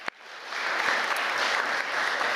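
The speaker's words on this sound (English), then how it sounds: "So let's give ourselves a little round of applause" A church congregation breaks into a round of applause at its annual meeting, the clapping swelling quickly after a sharp opening clap into a dense, steady roar of many hands that holds at full strength without fading.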